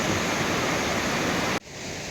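Clean water rushing steadily along a channel beside a road in Munnar, a loud, even broadband wash that cuts off abruptly near the end, leaving quieter ambient noise.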